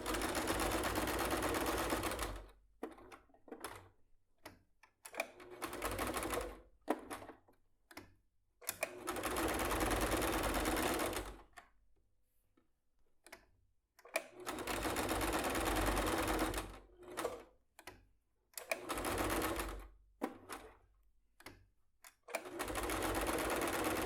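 A sewing machine stitches the straps of a handmade bag with an inset zipper in loud, steady runs of several seconds each, broken by short pauses and faint handling clicks.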